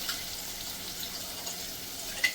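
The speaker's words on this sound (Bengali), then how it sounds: "মশলাটাকে আমি একটু কষিয়ে নেবো" Ginger, green chilli, coriander paste and turmeric sautéing in a pan, a steady faint sizzle with one small clink near the end.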